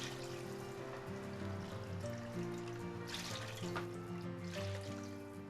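Water running into a pan of tomato and egg soup, a steady trickling pour that continues alone throughout, with faint kitchen hum and harmonic tones underneath.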